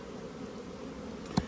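Honeybees buzzing softly and steadily while nucs are split out from a hive on a sunny afternoon, with one brief louder knock near the end.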